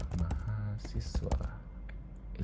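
Computer keyboard keys tapped in quick clusters, ending with a press of the enter key, close and moderately loud, with some soft speech-like sound mixed in around the keystrokes.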